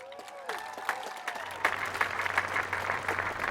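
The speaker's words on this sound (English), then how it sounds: "Let's give a big round of applause for our faculty." Graduates and guests at a Class of 2020 celebration applaud the faculty, dense clapping swelling from scattered claps into a steady roar with a few whoops, heard from the crowd at moderate loudness.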